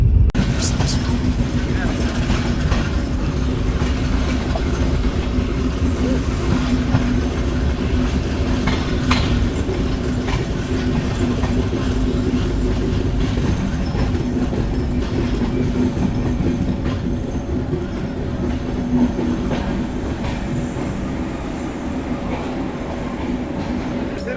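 A Chitra Express passenger train of Bangladesh Railways runs at about 70 km/h, heard from inside an air-conditioned chair car as a loud, steady low rumble with faint rhythmic track clatter throughout.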